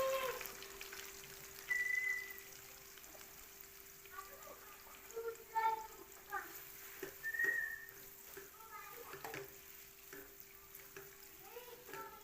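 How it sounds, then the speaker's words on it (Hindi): Onions frying in hot oil in a kadhai give a soft, continuous sizzle and crackle, with occasional faint stirring scrapes and a thin whistling tone drifting in and out. "ऑयल अच्छे से गर्म हो गया है। अब इसके अंदर प्याज डाल देंगे"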